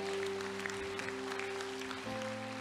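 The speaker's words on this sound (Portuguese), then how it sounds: "Pode aplaudir o nome dele em nome de Jesus" A church congregation applauds softly and steadily throughout, a dense patter of clapping at a distance, while a sustained keyboard or organ chord hums underneath and shifts pitch near the end.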